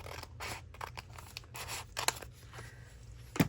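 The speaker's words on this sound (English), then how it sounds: "I'm going to cut it right across here." Scissors snipping through paper to make a small pocket for a daily journal spread, a quick series of crisp close cuts of varying length in a quiet room.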